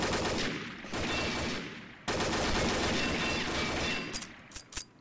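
Rapid, dense video game gunfire in long sustained bursts, loud and close, with a sharp break before a second burst and scattered shots toward the end, no talk.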